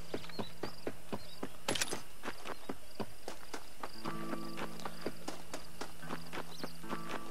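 Horse hooves clip-clopping at a walk in the video game Red Dead Redemption, a steady run of sharp hoof knocks with a brief whinny-like burst early on and faint game tones underneath.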